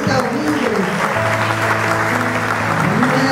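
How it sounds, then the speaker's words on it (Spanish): Applause from an audience at a memorial event, steady and fairly loud throughout, with music and voices mixed underneath. "Que quiero un aplauso para su abuela, Cristina"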